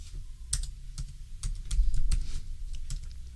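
Keys clatter on a computer keyboard during spreadsheet work in Excel, a quick run of clicky taps in short bursts over about three seconds, close and fairly quiet with no talking.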